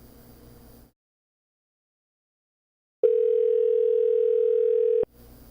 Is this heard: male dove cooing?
no